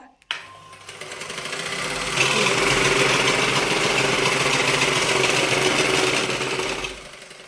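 An electric sewing machine is switched on and runs with a steady, loud, close mechanical whir for about seven seconds before winding down at the end.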